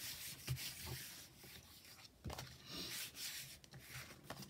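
A hand rubbing firmly over a stamped paper card pressed down on a table, soft close scuffing strokes in uneven bursts with a few light taps, no voice.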